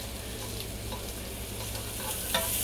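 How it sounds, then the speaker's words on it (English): Onion cooks down in a pan, giving a steady, moderate sizzle with light crackles and a faint low hum underneath throughout. "while I'm cooking down my onion"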